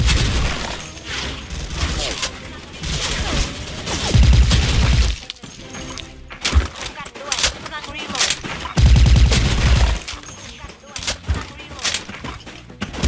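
Suppressed M4A1 ACOG rifle fire in the shooter game Special Force 2, with repeated bursts of shots and impact crashes spread through a busy, loud in-game firefight mix.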